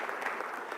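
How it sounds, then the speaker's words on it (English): Brief, faint burst of audience applause at a tech conference session, a dense wash of clapping with no talk over it. "You will have to do another round of applause"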